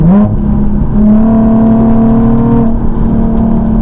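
A Nissan 370Z fitted with MeisterR coilovers drives around a corner, its engine droning loud and steady from inside the cabin, the tone rising slightly and holding before easing off.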